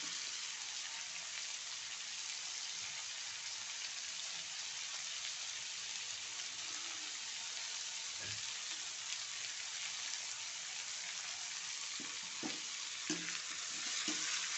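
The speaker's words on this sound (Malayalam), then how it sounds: "നന്നായിട്ടൊന്ന് വഴറ്റിയെടുക്കുക" Onions sauté in an iron pan with a soft, continuous frying crackle that stays faint and steady, with a few light stirring knocks near the end.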